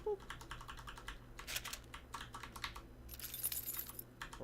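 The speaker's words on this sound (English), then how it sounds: "I pressed a key." A computer keyboard is typed on during a coding session, giving a steady run of light, close clicks and key taps under a low background hum.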